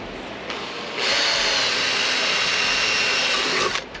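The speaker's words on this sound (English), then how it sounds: "So I'm just going to drill straight in." A power drill bores a pilot hole into aluminium while fitting curved awning rafters to a van. A steady, loud whine runs for about three seconds after a brief start-up, then stops, with no talking.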